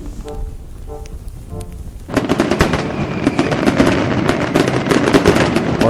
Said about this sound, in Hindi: जब सब लोग इकट्ठा हो गए तो पटाखे में आग लगा दी गई।